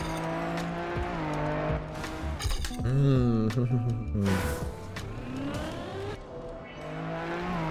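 Engine of a rally car in a community-made video game, revving and shifting while it slides over dirt, with changing pitch, tire noise and a dip where speed is lost, loud and continuous.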